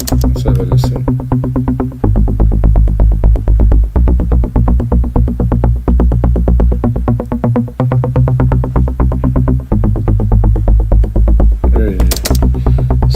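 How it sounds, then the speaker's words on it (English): A loud, pulsing melodic techno synthesizer pattern with deep bass drones and rapid repeated notes drives steadily throughout, briefly dropping out around the middle. "Such a synth."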